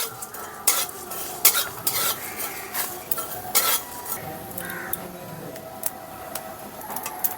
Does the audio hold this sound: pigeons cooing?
no